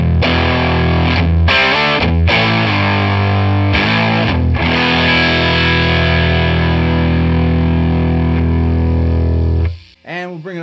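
An electric guitar plays through a tube amp turned up near full volume, behind an attenuator, giving heavy, saturated distortion that sounds loose and slightly flubby. Chords ring loud and sustained, then cut off abruptly near the end.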